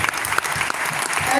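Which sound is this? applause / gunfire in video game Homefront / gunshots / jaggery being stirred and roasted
applause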